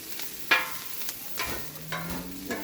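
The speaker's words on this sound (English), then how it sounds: "We got to get these onions nice and caramelized first" Onions sizzle as they caramelize on a hot Blackstone griddle, a soft steady frying hiss broken by a few scraping stirs from a utensil, close and with no voices.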